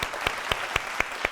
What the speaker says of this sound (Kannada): ಪ್ರೀತಿ ತುಂಬಿ ಎಲ್ಲರೂ ಜೋರಾದ ಚಪ್ಪಾಳೆಯೊಂದಿಗೆ ಸ್ವಾಗತಿಸೋಣ